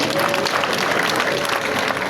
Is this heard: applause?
yes